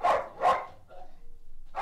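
A dog barks three times in sharp, spaced bursts at a petrol station, its loud barks separated by a quieter stretch of low whimpering and rustling.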